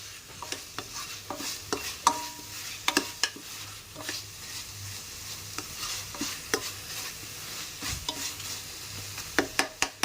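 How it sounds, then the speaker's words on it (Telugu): Ginger garlic paste fries and sizzles in a pan for an egg masala curry, with a steady crackling sizzle under repeated close scrapes and clinks of a spoon stirring against the pan, no talking. "అల్లం వెల్లుల్లి పేస్ట్ కూడా వేసుకుని పచ్చివాసన పోయే వరకు వేపుకుందాం"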